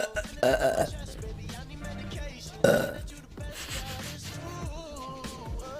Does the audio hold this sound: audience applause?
no